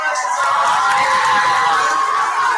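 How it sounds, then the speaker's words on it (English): Children cheering and clapping at a school-wide morning meeting, a dense, steady roar of young voices and applause filling a large room throughout. "Keep cheering, give your round of applause."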